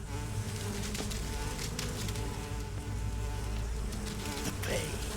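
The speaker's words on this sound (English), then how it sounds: "Some bees show up and he dives into a chasm." Bees buzzing in Metal Gear Solid 3 during the boss fight with The Pain, a dense, continuous swarm drone that stays loud and close throughout, with scattered clicks and game sounds mixed in.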